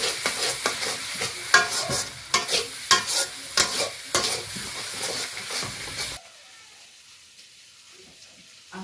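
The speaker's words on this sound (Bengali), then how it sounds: "এভাবে সবসময় নাড়তে থাকতে হবে, নাড়তে থাকতে হবে যখন না লাগে।" Banana flower curry is stirred briskly in a frying pan, rhythmic scraping strokes over a loud hiss and sizzle for about six seconds, then the stirring stops and only faint quiet background remains.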